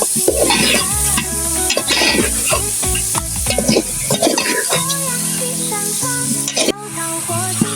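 Spices and potatoes stir-fried in a pan for an aloo curry, with loud vigorous scraping and clattering of a spatula over a steady sizzle, the strokes coming in quick irregular bursts close to the listener.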